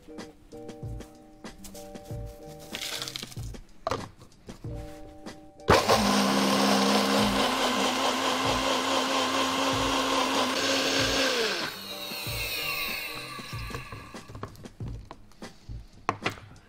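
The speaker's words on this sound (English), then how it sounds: "Add ice to your blender jug and give it a blend for about 20-30 seconds." A blender roars loudly and steadily for about six seconds, grinding ice, with scattered thumps and clatter before and after.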